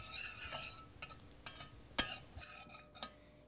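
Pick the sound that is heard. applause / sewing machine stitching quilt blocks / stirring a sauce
stirring a sauce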